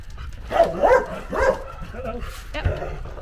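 Dogs bark and yip at a motorhome stop in Romania, several close, uneven bursts with whimpering rising and falling over a few seconds.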